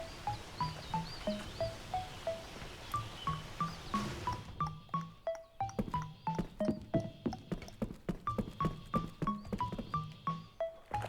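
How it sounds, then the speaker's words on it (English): A horse in the video game Lost Odyssey gives repeated clip-clop hoofbeats in a regular rhythm over looping game music, with a brief pause partway through. Nobody speaks. "Oh, it's not a statue. It's an actual horse."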